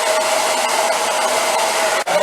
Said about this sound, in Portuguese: Vocês podem usar então o secador de cabelo para fazer a junção também das cores